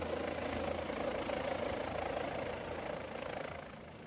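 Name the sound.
rescue helicopter during flash floods in Spain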